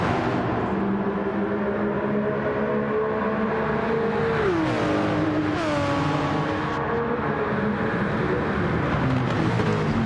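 GT1 race car engines roaring continuously in a sim racing game on a Nissan and Jaguar grid, with a loud sustained drone and a pitch drop around a gear change midway, no talk.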